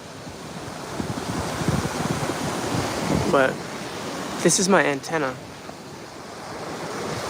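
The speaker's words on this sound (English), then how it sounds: "Yeah, the waves are pretty big and full of dirty water, but sometimes the waves get big enough." Big ocean waves break on a beach full of dirty water, a steady roaring surf mixed with wind buffeting the microphone, while someone speaks briefly over it.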